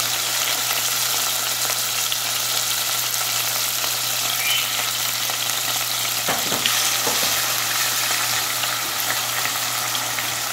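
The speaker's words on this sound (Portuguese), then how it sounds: "E aí a gente vai, o camarão aí tá fritando." Shrimp frying a few at a time in a pan for a white bean and shrimp dish, giving a steady, close crackling sizzle throughout with a few louder pops and stirring scrapes near the middle; no one speaks.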